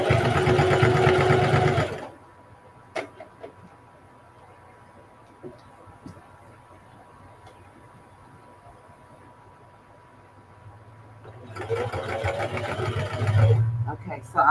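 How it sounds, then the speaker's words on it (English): A sewing machine back stitches a blue jean jacket in two loud, close bursts of rapid whirring, separated by a long near-silent pause with faint handling sounds. "So I'm just going to back stitch at the top."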